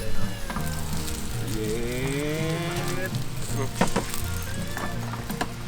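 Steady sizzling and crackling from eggs frying in a hot pan at a campsite, with a voice talking over the frying.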